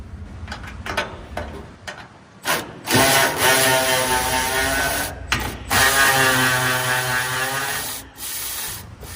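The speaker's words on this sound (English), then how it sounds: "Now we need to take the bolts out." Bolts are removed from a truck oil cooler with a power tool that whirs and ratchets in steady bursts, broken by short pauses, loud and close in a workshop.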